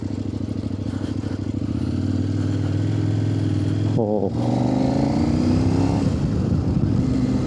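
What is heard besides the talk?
Kove 800X Pro motorcycle engine running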